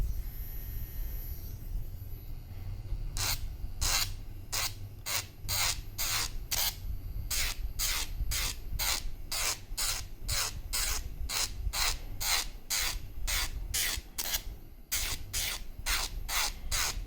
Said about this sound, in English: So this is how you sand it. It will remove the shiny surface from the polish like this.